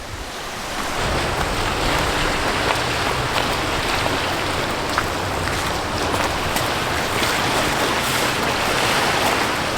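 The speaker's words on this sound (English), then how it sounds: "So this is the sand and the beach" Steady surf washing onto a sandy beach a short walk from home, a continuous broad roar mixed with wind buffeting the microphone, with no voices.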